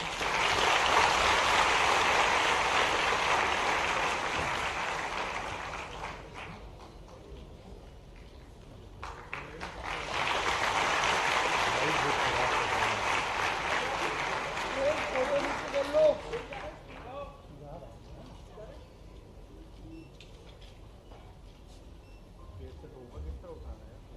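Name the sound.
loud applause at a ceremony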